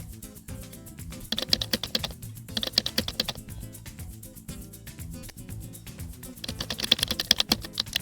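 Python code being typed on a computer keyboard, a fast steady stream of clicky keystrokes with short pauses, close and alone without speech, over a low hum.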